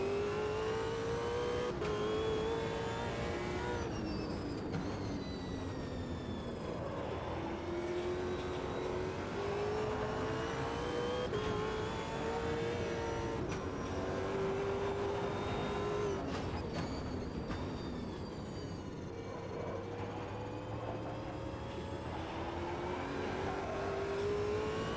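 A race car in the Automobilista 2 driving game, engine revving up and down through gears for a long stretch, with rising and falling whine through chicanes, loud and continuous with occasional sharp clicks.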